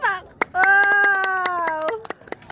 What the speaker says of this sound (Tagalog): Oh, galing ang palakpak.